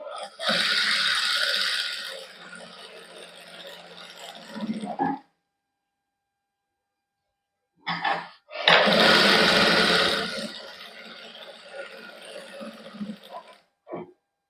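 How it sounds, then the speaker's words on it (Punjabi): Domestic sewing machine stitching along the edge of cotton suit fabric in two loud runs of steady mechanical whirring, separated by a silent pause and brief clicks. "ਇੱਥੇ ਸਲਾਈ ਲਾ ਲਾਂਗੇ ਬਿਲਕੁਲ ਕੰਨੀ ਤੇ"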